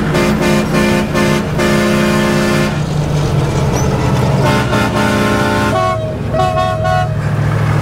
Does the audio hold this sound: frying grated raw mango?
no